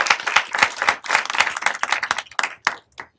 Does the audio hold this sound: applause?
yes